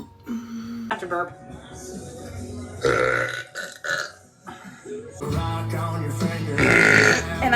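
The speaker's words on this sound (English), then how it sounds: "I have to burp." A woman burps loudly several times, with long deep belches rising between bursts of her own talking and laughter, close and prominent.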